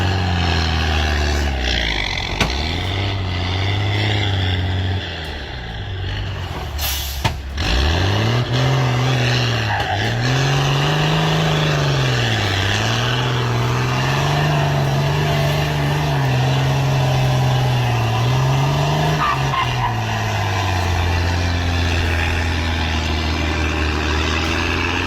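A logging truck's engine labours uphill with a steady, loud drone whose revs rise and fall repeatedly. The engine briefly drops away near the start, then carries on strongly to the end with no talk.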